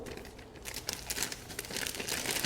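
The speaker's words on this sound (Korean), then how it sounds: "짤주머니를 뜯어서" A plastic piping bag is torn open by hand, giving close, quiet crinkling and irregular ripping bursts that build over a couple of seconds.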